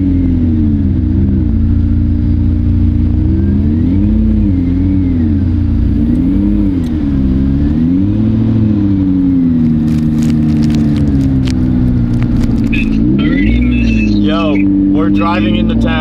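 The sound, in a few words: McLaren P1 hypercar engine while driving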